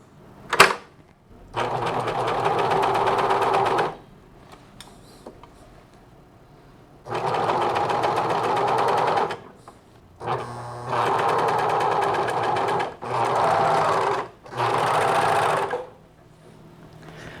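A sewing machine stitches a grey sweatshirt in several separate bursts of fast, steady mechanical whirring, each lasting a couple of seconds, with quiet pauses between runs and a sharp click at the start.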